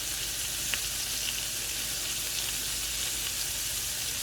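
Meatballs sizzle steadily in a hot pan, with a small spatula flipping them over; a constant close frying hiss with a soft scrape or tap near the start.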